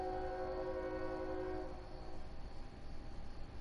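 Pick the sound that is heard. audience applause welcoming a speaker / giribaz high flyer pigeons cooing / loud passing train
loud passing train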